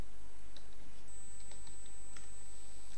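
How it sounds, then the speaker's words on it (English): Soft keystrokes on a computer keyboard tap out a short search, a handful of light scattered clicks faint beneath a steady background hiss and a thin high electronic whine. "Again, just type Eclipse install."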